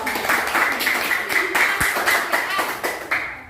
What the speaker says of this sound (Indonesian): Kelompok Al-Muqtadir, tepuk tangan dulu dong.